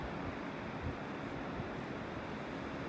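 Ocean waves washing onto a beach in North Naples, Florida, a steady close wash of surf with soft wind, no voices.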